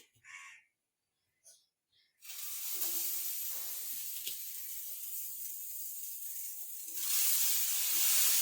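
Tomato garlic thokku with turmeric being sautéed in a pan breaks into a steady, close hissing sizzle after a couple of seconds of near quiet broken by faint caws, then grows louder toward the end.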